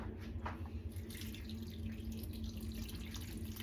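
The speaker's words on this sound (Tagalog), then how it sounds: "Lagyan ko lang ng tubig." Water pours from a tap into a pot of oxtail being cooked at home, a steady continuous rushing stream that runs without pause from start to finish.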